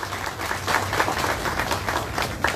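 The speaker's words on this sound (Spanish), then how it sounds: "Le damos otro fuerte aplauso." A crowd applauds with steady, dense clapping for a few seconds, fairly loud and close, no talking, at a PRD municipal youth coordinator swearing-in ceremony in Acapulco.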